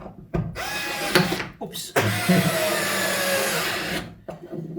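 A Bosch Go cordless screwdriver whirs in two bursts as it drives a screw in and backs it out, close and loud, with a brief spoken remark between.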